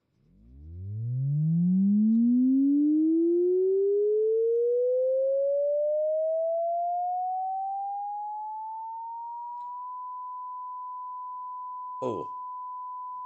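A pure sine tone sweeps smoothly upward over about ten seconds from a low hum to a steady high pitch, then holds, with a brief noisy blip near the end.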